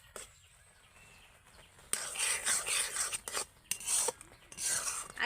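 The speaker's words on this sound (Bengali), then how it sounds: "অল্প করে দিয়ে এইভাবে নাড়লে কিন্তু সুবিধা হবে" A spoon stirring a motichur laddu mixture in a pan over low heat gives repeated scraping, rasping strokes that start after a quiet opening and continue in short bursts, fairly close and moderately loud.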